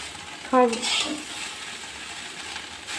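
Chowmein noodles and vegetables being stirred in a pan over steady low sizzling, with a brief clatter of a utensil near the start and a soft voice murmuring.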